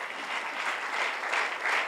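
A church congregation applauds during a sermon, a dense, steady burst of clapping from many hands that lasts about two seconds with no voices over it.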